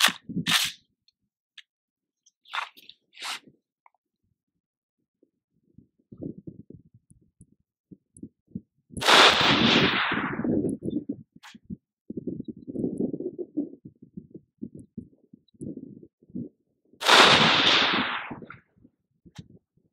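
A lightweight Colt 6720 AR-15 rifle fires Hornady 75-grain boat-tail hollow-point ammunition, with a few loud, sharp cracks spaced seconds apart and quieter handling and shuffling noises in between.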